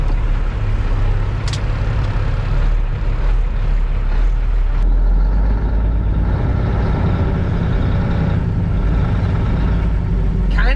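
Work truck being driven out back to park, a loud low engine rumble throughout with a brief air-brake-like hiss near the start, heard close up without talk.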